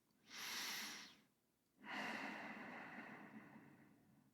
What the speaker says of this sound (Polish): to oddychasz właśnie w ten sposób, że wydech jest dłuższy